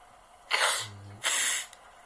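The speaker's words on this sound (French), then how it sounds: "Éternuement." Two sharp sneezes from one person follow each other about half a second apart, close and breathy, in an otherwise quiet room.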